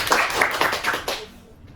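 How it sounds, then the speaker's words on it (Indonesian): Clapping for a student in a classroom or online class presentation, a brief burst of a few hands clapping close by that fades out after about a second. "Tepuk tangan dong"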